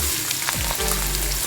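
Small diced potatoes frying in oil, giving a continuous close sizzle with faint crackles throughout the short stretch.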